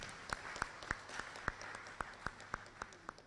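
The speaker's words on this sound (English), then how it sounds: "another round of applause for her" A handful of sparse, evenly spaced hand claps at a university convocation meeting, thin and fairly quiet, like only a few people in the audience clapping.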